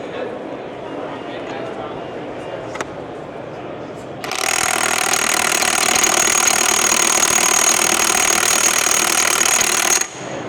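A competitor's power tool fastening for about eight seconds in a Milwaukee 2024 tool comparison, a steady loud mechanical whir that starts abruptly over a noisy background and cuts off near the end.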